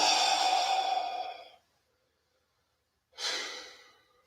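Two long, breathy exhales during a yoga session, the first lasting over a second and fading out, then silence before a second, shorter airy breath begins, close and clear.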